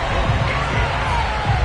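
A sold-out stadium crowd roars steadily in an EA Sports NFL football game as the New England Patriots face the Cleveland Browns, a dense, loud wash of cheering with no break.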